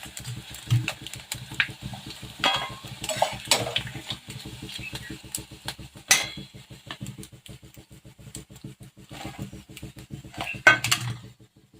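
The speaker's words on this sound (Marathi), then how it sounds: "तर बघू शकता तुम्ही छान असे साबुदाणा आणि बटाटा पोळी पापड छान तळा लागलेला आहे" Sabudana and potato papad fry in hot oil in a home kitchen, giving a steady crackling sizzle with clinks and scrapes of a utensil against the pan throughout.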